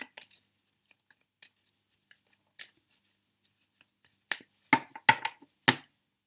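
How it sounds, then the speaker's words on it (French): Golden Universal Tarot cards being shuffled by hand: sparse light taps and flicks, then a quick run of louder card riffles and snaps near the end, close and crisp, with no talking. "Donc vous mélangez les cartes"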